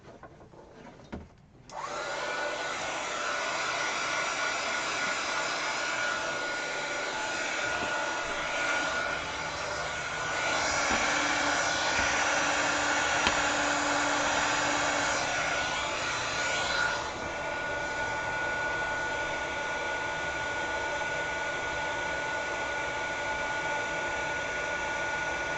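A dryer blows steadily to quick dry a coat of stain, switching on abruptly with a loud, even whooshing hum that rises briefly in the middle and then runs on constantly, close and alone.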